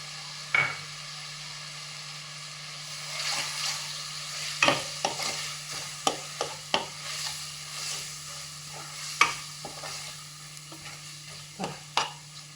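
Chili powder stirred into a frying pot for mutton biryani: soft scraping stir strokes and sharp clacks of the spoon against the pot over a steady low sizzle, close and fairly quiet, with no voices.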